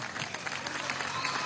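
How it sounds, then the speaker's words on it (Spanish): Crowd applause at an anniversary rally for the Movimiento por la Paz y la Vida, a dense patter of clapping heard at a moderate, distant level, steady throughout with no distinct voice over it. "Vale, un aplauso, vale."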